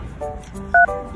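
A short run of phone keypad dialing tones beeps close by, a few distinct button presses in quick succession, with faint room noise around them.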